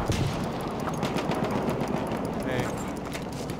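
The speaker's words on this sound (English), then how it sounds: "A couple of guys on the other side of the bridge saw me and took some pot shots." Enemy rifle pot shots in Battlefield 1 crackle as a dense, loud volley of overlapping gunfire mixed with battlefield noise throughout.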